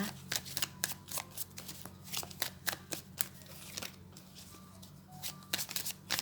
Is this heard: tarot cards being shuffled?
yes